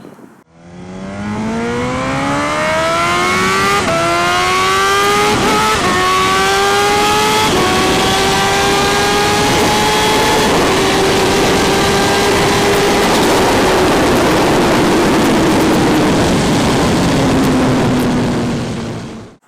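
Kawasaki Ninja H2SX motorcycle accelerating hard on a test track in Mexico, engine note climbing steadily through several gear changes, loud and sustained with no talking.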